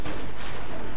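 Gunfire in a harbour shootout in the Mafia video game, a dense, loud burst of shots packed into a single second with no voices.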